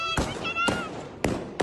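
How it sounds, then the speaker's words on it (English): Shots fired into the air in Kabul as Taliban fighters confront a women's street protest ring out as four sharp, echoing cracks at irregular intervals, over a murmur of raised voices. "Gunfire into the air"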